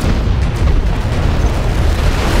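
Offshore artillery explosions in Command & Conquer Generals Zero Hour, a loud continuous barrage of booming blasts and rumbling impacts packed densely together, close and heavy with no talk.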